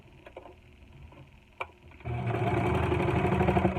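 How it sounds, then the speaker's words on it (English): A serger sews along the long edge of a fabric face mask, starting after a couple of soft clicks and then running as a steady, close, rapid mechanical whirr. "So I'm just going to sew along the long end."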